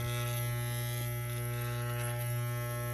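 Electric clippers shave a dog's coat down short, giving a close, loud, steady electric buzz with a strong hum that holds unbroken throughout, with no talking.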